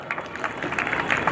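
Audience clapping to honour an elderly woman guest at a girls' character-building camp convocation in Agra, a steady patter of many hands throughout, fairly close and moderately loud.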